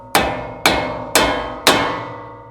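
A hammer strikes a car part four times to knock it loose during repair work on a daily driver. Each blow is loud, close and metallic, ringing out and fading before the next, evenly spaced about half a second apart.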